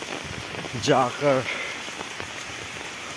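Rain falls in Meghalaya, a steady hiss running throughout while someone speaks briefly over it near the start.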